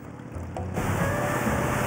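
Cartoon sea ambience as a boat appears on open water: a steady wash of waves and wind that swells louder partway through and then rolls on continuously.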